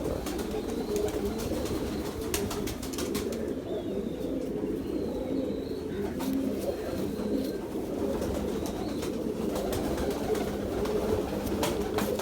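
Salety Ferozpuri female pigeon gives soft, low, repeated coos under a busy background of other birds chirping and faint clatter, continuing steadily throughout.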